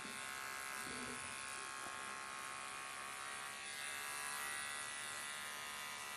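Steady buzzing hum of an electric dog grooming clipper fitted with a 15 blade, running continuously and close while trimming a Shih Tzu's coat.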